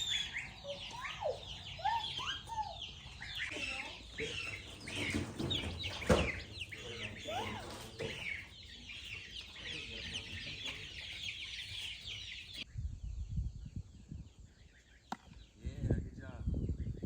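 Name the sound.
chicks in a brooder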